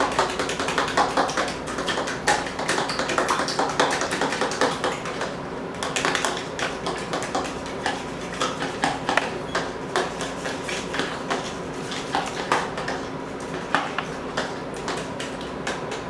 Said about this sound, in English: So you're gonna mix your eggs up. Get it nice and mixed up with the milk.